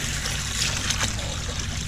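Water trickles and splashes steadily into an aquaponics tank as minerals are mixed in, a close, continuous liquid flow with no voices.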